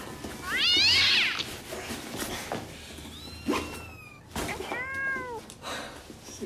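A cat meows several times, with one loud drawn-out cry near the start and softer, shorter mews later, heard alongside stage sounds from a theatre play.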